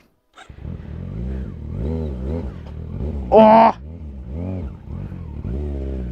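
A Kawasaki Z900 motorcycle revs steadily as it labors up a rough village road, its engine note rising and falling close by, with a voice breaking in briefly over it.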